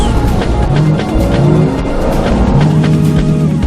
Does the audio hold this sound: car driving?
yes